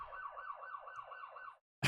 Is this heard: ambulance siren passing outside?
yes